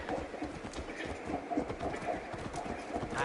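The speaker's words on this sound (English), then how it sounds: "I just stole this guy's horse." Horse hooves clip-clop steadily in the video game Assassin's Creed Valhalla, a brisk even trot heard up close over a constant ambient bed, with no talk.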